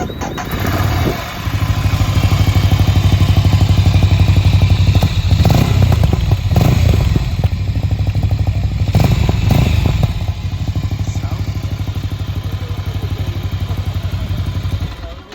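A Ducati Scrambler 800 motorcycle engine runs loud and close, revving hard in repeated surges before settling back to a rough idle.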